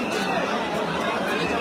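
A dense crowd of devotees at the Ayodhya Ram Mandir fills the air with a constant close babble of many overlapping voices, loud and unbroken throughout.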